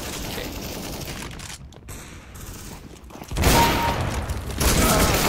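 AWP sniper rifle in the video game CS:GO: a burst of sharp gunfire cracks midway, then the firing breaks off and loud sustained blasts and mechanical handling noises fill the second half.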